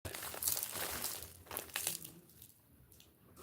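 Crisp plastic crinkling in a few bursts, loudest early on, then softer rustles as it trails off; nearby and without speech.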